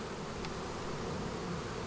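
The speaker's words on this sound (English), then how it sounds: "This hive has a lot of bees in it." Honey bees swarm and hum in a steady, dense drone at a busy beehive during a hive split, close to the microphone and continuous throughout with no talking.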